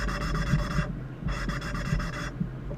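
A valve being ground into its seat on a Ford 3.8 engine, two bursts of steady gritty rasping separated by a brief pause, close and fairly loud.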